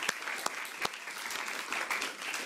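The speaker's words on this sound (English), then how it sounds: "So, a big round of applause." A brief burst of applause at a junior debating workshop, a small group clapping steadily at moderate volume with a few sharper individual claps standing out.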